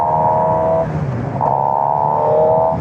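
A Suzuki GSX-750 motorcycle engine revs close by, holding a steady buzzing note, dipping briefly, then climbing again as the throttle opens.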